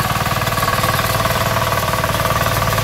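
A small RBW power weeder's engine runs steadily close by on a farm during a live demonstration, its throbbing mechanical beat constant and loud throughout with no voices.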